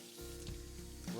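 Tap water runs over a crab being cleaned, a steady close hiss of flowing water broken by brief splashy shifts as the shell is moved under the stream.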